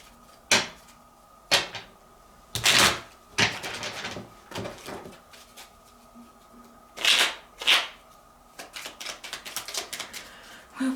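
Tarot cards are shuffled by hand in several separate bursts, each a brisk riffling flutter with short pauses between. The sound is close and moderately quiet, with a few small knocks and taps near the end.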